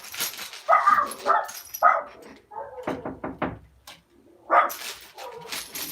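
A puppy in a room gives a few short high yips and whimpers, spaced apart over several seconds, with quieter knocks and rustling in between.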